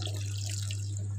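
Water pours steadily into a pot of chicken and mixed vegetable curry, a continuous close splashing stream with a constant low hum behind it, brief and without speech.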